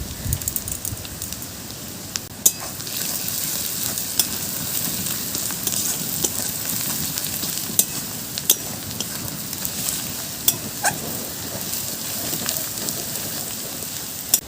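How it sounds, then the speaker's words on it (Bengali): Turmeric, cumin and chili powder sizzle steadily in hot oil in a pan for chicken curry, a dense even hiss with scattered crackles and occasional stirring clicks, close and alone throughout. "মশলাটা একটু ভালোভাবে কষে নিয়েছি"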